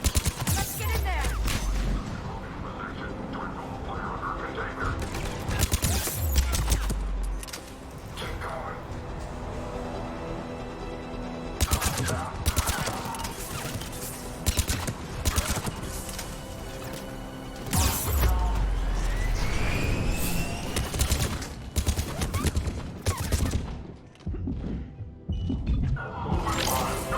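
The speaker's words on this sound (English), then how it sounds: "The checkpoint is under fire" Bursts of automatic gunfire and crashing impacts at a checkpoint on Sur'Kesh in Mass Effect 3, coming in loud volleys with short lulls, mixed with game music and voices.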